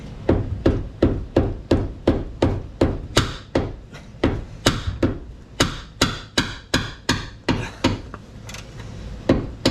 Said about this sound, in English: Time to bring out a proper mallet